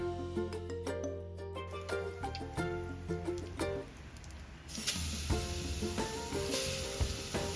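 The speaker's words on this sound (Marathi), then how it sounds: "जिरं, मोहरी आणि हिंगाची फोडणी द्यावी." Cumin, mustard seeds and asafoetida sizzle in hot oil in a pot, a close crackling hiss that grows louder and brighter partway through, mixed with clinks and ringing tones in the background, and no voices.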